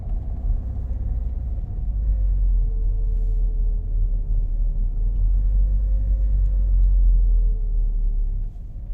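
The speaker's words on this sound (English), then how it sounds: "gridlock traffic in downtown Cape Paphos" Gridlocked evening car traffic in downtown Paphos, Cyprus, makes a steady low engine rumble heard from inside a car, with a faint whine drifting over it throughout.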